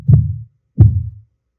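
Two heavy, low heartbeat thumps sound close and alone, evenly spaced with a quiet gap between beats.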